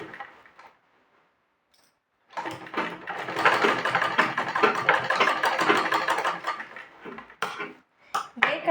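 A sewing machine stitches a blouse sleeve in one dense, rapid mechanical burst lasting several seconds after a quiet start, followed by a few short, sharp clicks.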